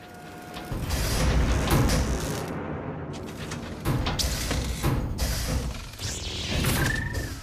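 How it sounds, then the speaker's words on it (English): Heavy metal stamping machines clank and thud in repeated loud impacts, with a dense metallic roar filling the space between strikes. "some metal stamping machines that were used"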